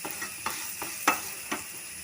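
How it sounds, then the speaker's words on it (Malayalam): Ridge gourd frying in a pan while being stirred, a steady soft sizzle punctuated by about five light scraping strokes of the spoon at a slow, even pace, close by. "ഇത് മൂത്ത് വരുന്ന വരെ ഇളക്കി കൊടുക്കാം."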